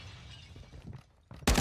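A sudden loud burst of shattering glass in the shooter game Warzone, arriving near the end after a stretch of quiet low rumble and faint shuffling.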